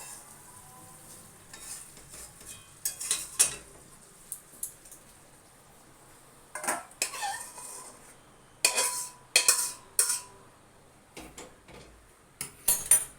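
A whole lote fish cooked in a pot is poured out, with intermittent clinks and scrapes of metal utensils against the pot and a soft sizzle between them, close and moderately loud, without talk.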